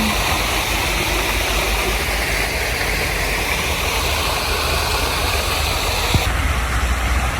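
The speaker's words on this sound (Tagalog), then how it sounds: "Ayan yung falls." A waterfall in Parc de Torreblanca near Barcelona gives a constant, dense rush of falling water that stays even throughout, with no talking.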